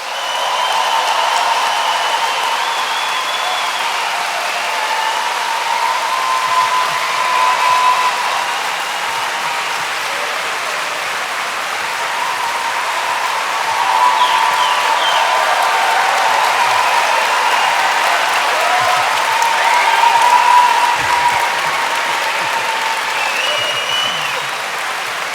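Sustained audience applause welcoming two speakers, Ben Okri and Jeremy Corbyn, to a stage: a dense, even wash of clapping from a large crowd lasting well over twenty seconds without letting up.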